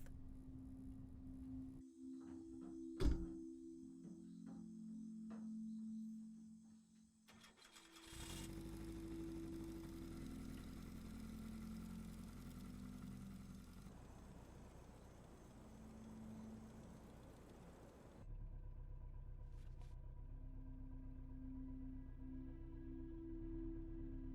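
Car engine humming steadily through a night drive in the video game Season: A Letter to the Future, a low continuous drone that shifts in tone partway through, with a sharp click early on and no talking.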